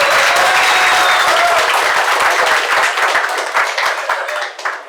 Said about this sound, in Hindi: इनके लिए एक ताली हो जाए।